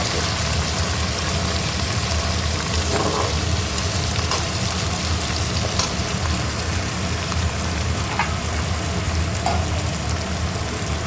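Onions and fenugreek fry in a pan, giving a steady, close sizzle with occasional faint stirring scrapes and no talk.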